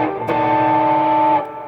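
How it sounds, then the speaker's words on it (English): An electric guitar played through a Dumbler overdrive pedal modeled on a Dumble amp tone, giving a close, loud distorted chord that sustains steadily for about a second before cutting off. "this Dumbler is kind of like, it's based off like a Dumble sound, like it's kind of like the gold standard of kind of stomp boxes for distortion"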